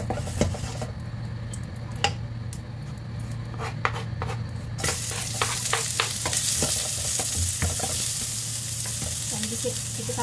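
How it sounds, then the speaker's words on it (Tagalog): Onion and garlic sauté in a pan with a steady sizzle, and sharp utensil scrapes and clicks sound throughout. The frying grows noticeably louder and brighter partway through. "Kikitap muna yung sibuyas sa kabawang"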